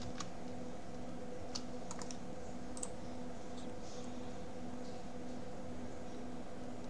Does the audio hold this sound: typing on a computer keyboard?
yes